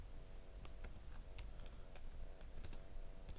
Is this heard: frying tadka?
no